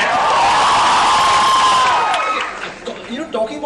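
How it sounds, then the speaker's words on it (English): A college crowd at a film promotion event lets out a loud, sustained cheer with shouts and whoops, fading after a few seconds as scattered voices and chatter take over. "A bigger cheer and a bigger shout for that!"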